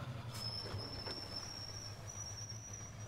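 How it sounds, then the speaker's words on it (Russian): A heavy truck in the SnowRunner video game rolls with a low steady engine rumble as a long thin high-pitched brake squeal holds across the passage, with a few faint clicks early on. "Ну, вот это звук тормозов."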